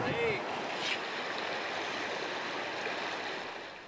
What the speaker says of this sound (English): All that stood in our way was the boulder-strewn outflow of the Mistassini River.